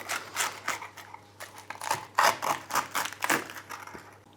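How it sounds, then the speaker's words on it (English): A pizza cutter rolls through cheese-filled focaccia di Recco with a crispy browned bottom, giving a close series of short crunchy slicing strokes in an uneven rhythm, with no talking. "I find the best way to cut this is with a pizza cutter."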